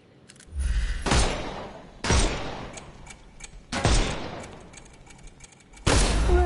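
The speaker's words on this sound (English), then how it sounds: "Shoot off their armour." Gunfire in a Sherlock Holmes video game on PS5 comes as four loud, separate bursts spaced a second or two apart, each decaying into a rumbling tail.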